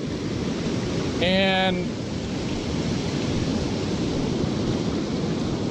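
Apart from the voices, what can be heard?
ocean waves crashing on Oregon coast beach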